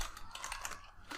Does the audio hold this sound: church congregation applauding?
no